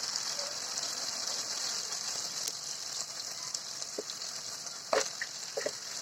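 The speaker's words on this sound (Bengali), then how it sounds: "লবণ এই সবগুলো মশলা দিয়ে খুব সুন্দরভাবে কষিয়ে নিচ্ছি" Spices with garlic, ginger, cumin, dried chili, turmeric and salt sizzle steadily in a hot pan, a soft continuous frying hiss with occasional clinks of stirring.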